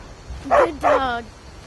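A dog barks twice in quick succession in Skyrim, two short voiced yips close by, followed by quieter background game sound.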